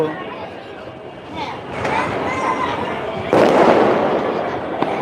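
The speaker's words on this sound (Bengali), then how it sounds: "আমাদের মোহাম্মদপুরে আতশবাজি এবছর অনেকটাই কম হচ্ছে" Scattered New Year's night fireworks pop and crackle at a distance over Mohammadpur, with a louder burst of crackling midway, amid background crowd chatter and a voice talking.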